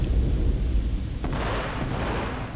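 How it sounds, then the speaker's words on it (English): A time bomb detonates in Star Wars Battlefront 2, a loud, dense low rumble that swells and rolls on for a couple of seconds, with a sharp crack partway through, amid ongoing battle noise. "Time bomb."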